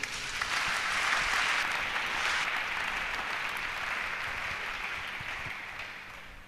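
Church congregation applauding together, a dense steady wash of clapping that holds loud for several seconds and then tapers slightly toward the end, with no speech over it.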